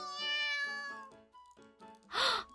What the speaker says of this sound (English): I hear a little meow from below me.